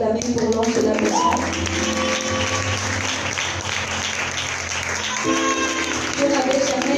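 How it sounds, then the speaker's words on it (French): At a church conference, the congregation applauds loudly and steadily, a dense wash of clapping filling the hall from start to finish, with cheers and voices mixed in. "Est-ce qu'on peut encore acclamer pour l'ange de la maison?"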